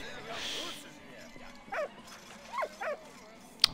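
A dog gives a few short yips and whimpering barks indoors, soft and close, with brief quiet gaps between them and a faint background murmur.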